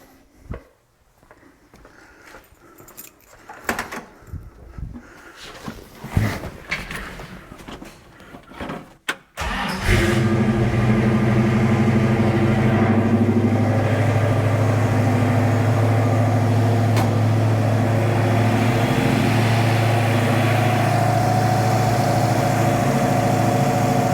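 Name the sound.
car engine running after a cold start, warming up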